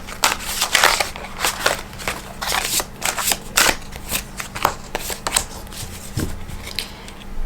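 Tarot cards are shuffled and spill out, making loud, close riffling bursts and papery crackles in a steady choppy rhythm, with no voice over them.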